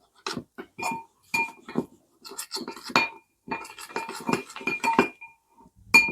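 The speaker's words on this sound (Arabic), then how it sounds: "ونبتدي نقلب السلطة" Salad being tossed in a bowl after ground flaxseed is added, a close series of irregular clinks, scrapes and taps of utensils against the dish.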